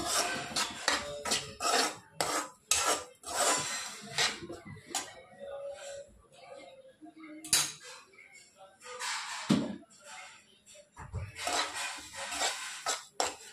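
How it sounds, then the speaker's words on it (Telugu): Dry fruits are stirred in a pan while roasting on low heat for laddu, a busy series of scraping, clinking spoon strokes against the pan in uneven rhythm, close and fairly loud, with a few pauses. "సో వీటిని ఆంతరం వదిలేయకూడదు, సో తిప్పుతూ ఉండాలి."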